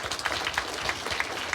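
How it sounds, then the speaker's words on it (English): Applause for Mr. Anderson at a school's green kick-off panel event: a steady, dense patter of many hands clapping together, sustained throughout at moderate loudness with no talking over it. "Give him a round of applause."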